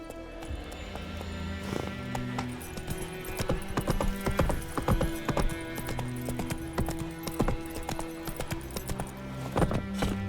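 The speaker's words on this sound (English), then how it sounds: "Run, Roach" A horse gallops in The Witcher 3 video game, a steady clip-clop of hooves running close and loud over game music, with an occasional whinny.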